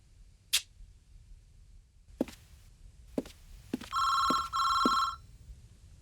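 A few sharp knocks and clicks, then a telephone bell rings in two bursts, fairly faint in a quiet room.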